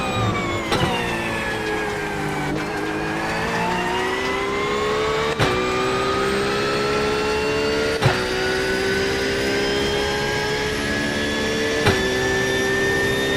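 A race car engine in the iRacing sim at Daytona holds full throttle, its loud whining tone climbing steadily, broken by abrupt upshift drops every few seconds.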